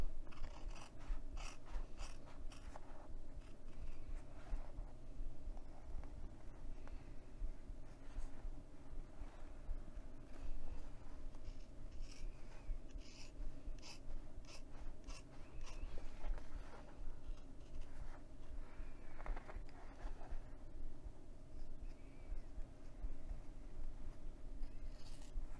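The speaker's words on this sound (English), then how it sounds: "I'm going to make a slit in the middle with my scissors and then cut the rest out." Soft, irregular snipping and crunching of scissors cutting through stiff cork fabric, continuing steadily at close range with a low background hum.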